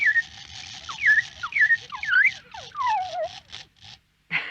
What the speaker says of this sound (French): C'est un automate. Pour qu'il siffle, il faut remonter le ressort.